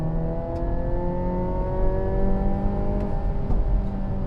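Engine of a 2024 Hyundai Elantra N humming under load from inside the cabin, a steady tonal drone with rising harmonic pitch as revs climb, sustained and fairly loud throughout.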